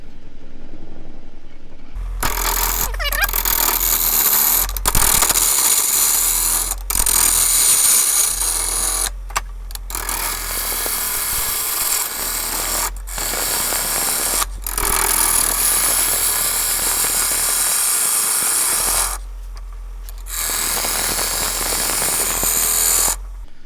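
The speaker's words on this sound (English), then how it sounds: "from the pull cut I can just bring the handle of the gouge round to get the bevel riding, and then it's a push shear cut up to the rim" A half-round bowl gouge of about 16 mm shears green wood on a spinning lathe while a board is roughed into a bowl: loud, continuous cutting noise with a low motor hum and several brief pauses.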